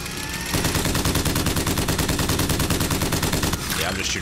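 Rapid, loud shotgun blasts in the Bioshock Infinite video game, fired in a dense continuous burst from about 0.5 to 3.5 s, close and dominant, with other game sounds before and after.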